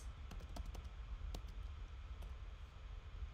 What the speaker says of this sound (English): Press return, enter on the keyboard